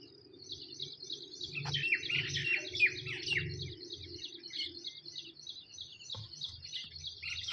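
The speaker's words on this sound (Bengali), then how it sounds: "পাখি ডাকছে" Birds chirp outdoors in repeated quick bursts, fairly close and clear, over a low steady rumble in the background.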